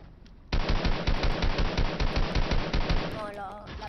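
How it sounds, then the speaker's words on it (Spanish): Rapid automatic gunfire from a teammate in Fortnite, close and loud, rattles in a steady burst of quick shots for about two and a half seconds, then trails off as a voice cuts in at the end. "Está disparando la compañera"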